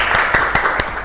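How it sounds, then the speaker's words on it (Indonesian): Clapping from a class audience after a teaching presentation on accounting, a few sharp separate claps over a bright, steady background hum. "Baik sekali, tepuk tangan dulu."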